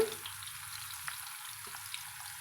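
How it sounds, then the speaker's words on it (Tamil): Raw jackfruit chips deep-frying in hot oil, Kerala style, on a low flame, a soft continuous sizzle with faint crackles and an occasional small stir, quiet and close, with no talk. "இதை பொறிக்கணுங்க ரொம்ப சூடாக வச்சோம்னா கருகி போயிருங்க"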